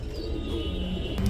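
Bombay Rajgolla pigeons coo softly, low throaty calls over a faint background hum, brief and close.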